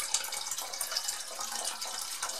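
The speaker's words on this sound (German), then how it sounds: "das ist der Rotweinessig, da habe ich auch die Hälfte rein" Red wine vinegar poured into a Dutch oven for a venison roast, giving a steady, close liquid splash and trickle that runs continuously without pause, with no talking over it.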